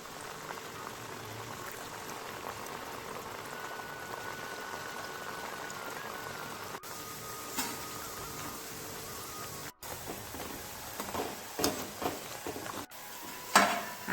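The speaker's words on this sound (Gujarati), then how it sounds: "ચલો હવે આપણે તેલમાં તળી લઈએ" Batter of rice flour chakri frying in hot oil, a steady dense bubbling sizzle with soft crackles, brief louder pops and spatters near the end, no voices.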